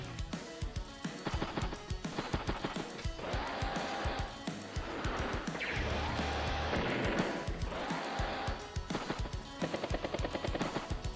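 Rocket infantry attacking in the strategy video game Advance Wars: Days of Ruin: rapid, repeated gunfire-like bursts over continuous game music.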